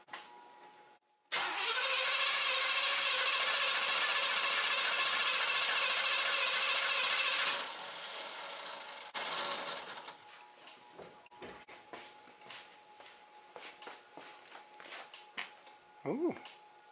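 An engine cranks steadily during a cylinder compression test, a loud continuous whirring for about six seconds before cutting off, followed by quieter clicks and rustling.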